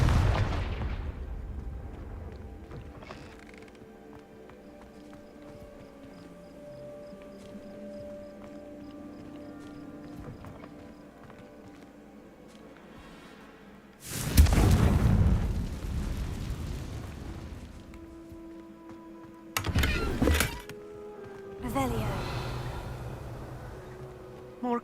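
Confringo fire spell blasts in the game Hogwarts Legacy, several loud booming explosions with sharp onsets and rumbling tails, set against a quieter ambient stretch beforehand.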